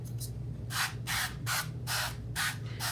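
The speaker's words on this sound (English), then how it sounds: "so we'll do a quick spray" A can of avocado oil cooking spray sprays onto a tray in a series of short hissing bursts, about seven quick pumps in a row, close by and fairly soft.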